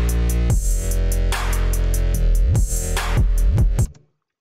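Electronic bass line from an EDM track made in FL Studio, heard alone: a thick, sustained synth bass with rhythmic swells and repeated pitch swoops, loud and steady, stopping suddenly near the end.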